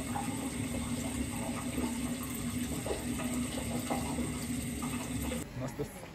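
A shower runs with a steady, loud hiss of falling water during a trip to Bariloche. The sound continues without a break and shifts slightly near the end.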